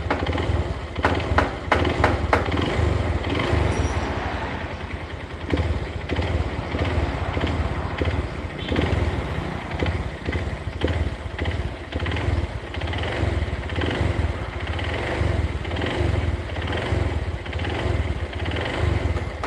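Yamaha Verza motorcycle with an upright single-cylinder engine running with an abnormal noise, a steady loud close engine drone with a rapid knocking throb throughout, no talking.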